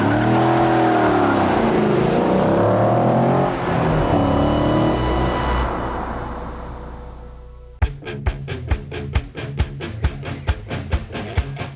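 A drag racing car at Irwindale Drag Strip in Southern California revs loudly and steadily, the engine note shifting and fading, then bursts into sharp rapid pulsing pops as it launches, with no talking.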